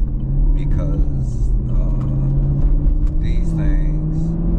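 Chevrolet Camaro cruising on the highway, a steady engine rumble and road drone heard from inside the cabin, with a person talking over it throughout.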